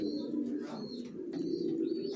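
Young silver racer pigeons coo softly and continuously in a low, steady murmur, with a faint higher chirp now and then.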